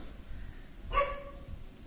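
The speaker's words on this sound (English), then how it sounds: "dogs are very much excited to learn about the convex lenses. They won't stop barking." Dogs bark in a short burst near the middle, mid-distance, over a low steady background hum, with a faint yelp at the very end.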